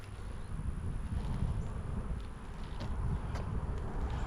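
Honey bees buzz at an open hive during a strong nectar flow, a dense, steady low drone that stays at a constant level with no voices.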